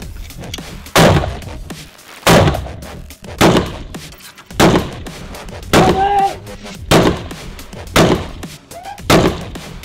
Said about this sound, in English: You go shoot some guns.